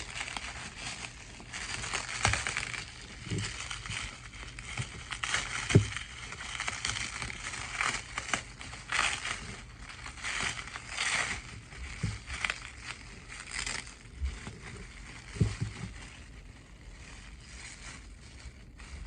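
Straw packaging material rustling and crinkling as it is pulled from a shipping box, a soft, continuous scratchy crackle with occasional louder crunches, fairly close and with no talking.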